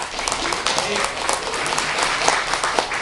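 Applause from an audience at an international gathering of retirees and workers' unions, steady dense clapping throughout with voices mixed in underneath.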